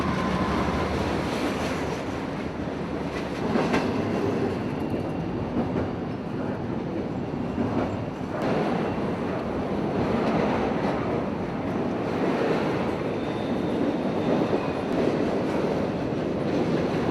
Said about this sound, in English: I was set up to catch Q124, a northbound double stack coming out of Jacksonville.